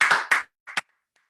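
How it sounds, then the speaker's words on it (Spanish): A church congregation claps hands: a handful of sharp claps close together, then a pause and two more quick claps, brief and moderately loud in a quiet room. "Dale un aplauso a Dios ahí donde estés."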